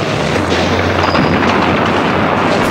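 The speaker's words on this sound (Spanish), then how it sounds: "Continúan los tiros." Dense, continuous bursts of gunfire and booming blasts blend into a loud, chaotic roar with no pauses and no voices.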